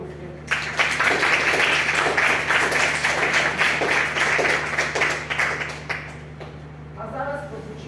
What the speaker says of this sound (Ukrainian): Давайте, будь ласка, подаруємо їй оплески.